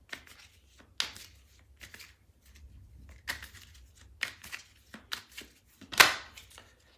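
Tarot cards are drawn and laid on a table, making quiet, scattered slides, flicks and soft taps with pauses between them and one sharper snap near the end.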